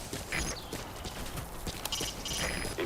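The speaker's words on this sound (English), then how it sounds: "Use your horse." Horse hooves clip-clopping at a steady walking rhythm in Metal Gear Solid V: The Phantom Pain, moderately close, over an ambient game soundscape with faint high tones.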